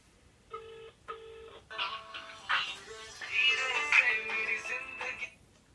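A telephone is dialed to call a friend, two short keypad tones beeping near the start, followed by a longer stretch of mixed tones and chirps at moderate volume.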